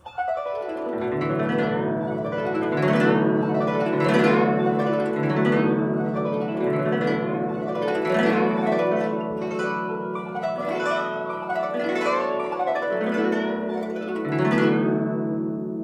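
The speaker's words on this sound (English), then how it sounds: "combine the left hand bending the string and the right hand to do the glissando" Plucked guzheng strings sweep in repeated rippling glissandos, with left-hand string bends sliding the pitch between runs, steady and fairly loud, no voices.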